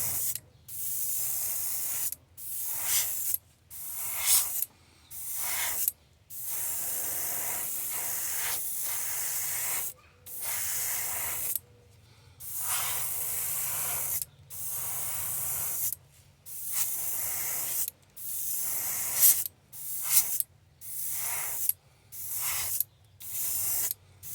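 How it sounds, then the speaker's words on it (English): An airbrush sprays silver paint onto a wooden crankbait lure, hissing in repeated short bursts, each a few seconds long, with brief pauses between them and no talking. "we're just gonna spray at an angle with this silver."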